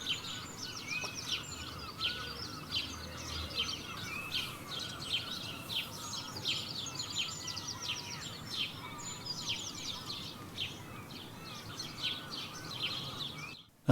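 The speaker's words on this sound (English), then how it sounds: "I won't give you half an hour's worth of birdsong because we haven't got that long" Birdsong on a patio early on a summer morning, many overlapping chirps and trills, soft and somewhat distant, continuing without a break over a faint outdoor hush, with no talking.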